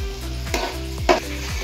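Pulao made with Gobindobhog and parboiled rice is stirred in a hot pan, giving a short burst of sizzle with two soft scraping sweeps of the spoon against the metal over a low steady hum.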